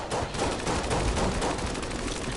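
The Bullet King boss in the video game Enter the Gungeon fires dense volleys of bullets, a continuous, loud barrage of rapid shots with no pauses and no talking.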